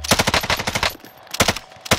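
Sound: gunfire in video game Warzone

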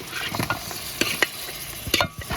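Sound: stirring mutton into the masala in a pan

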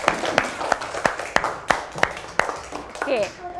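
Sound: applause, children clapping in classroom

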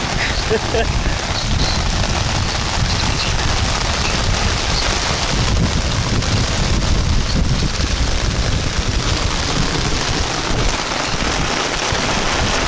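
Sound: strong wind and rain storm

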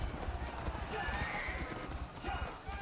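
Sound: horse galloping in video game Rival Knights horse race

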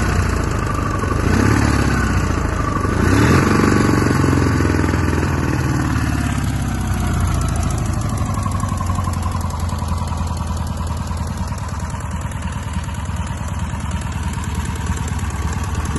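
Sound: engine started and idling

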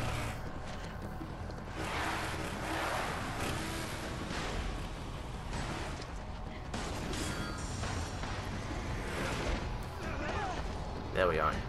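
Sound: motorcycles attacking in Resident Evil 5 video game

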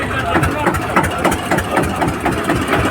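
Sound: tractor engine idling at tractor market

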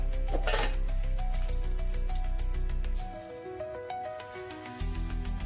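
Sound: mustard and cumin tempering sizzling in hot oil

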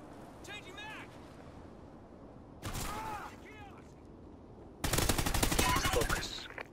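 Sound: gunshots in a video game

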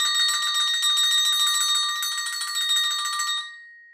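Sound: A-Star double agogo bells struck, high and low bells

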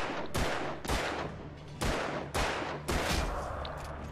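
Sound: gunfire in the video game Alan Wake

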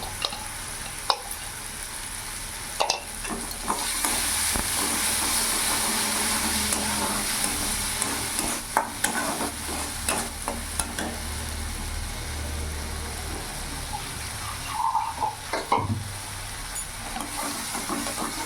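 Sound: spice paste being stirred and fried in a pan

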